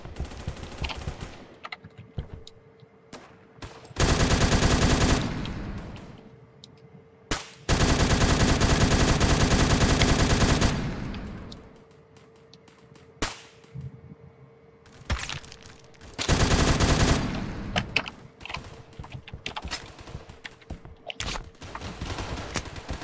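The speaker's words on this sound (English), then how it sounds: "I'm coming under heavy fire" Bursts of automatic gunfire in the Roblox shooter Phantom Forces: three loud, sustained volleys of several seconds each, separated by quieter stretches of scattered single shots and game noise.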